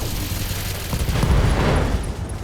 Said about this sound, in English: we're going to go for a full salvo against that Warhammer